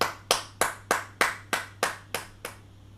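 A small group at an Indonesian church talk claps in unison, eight sharp even beats that fade toward the end, with a low steady hum beneath.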